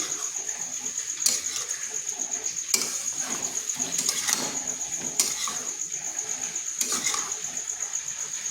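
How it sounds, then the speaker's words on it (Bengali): Cooked balls being mixed in a bowl over a steady background sizzle, with occasional sharp clinks and scrapes of utensil against the bowl, close by and without talking. "এই বলগুলো ভালোভাবে মিশিয়ে নিচ্ছি"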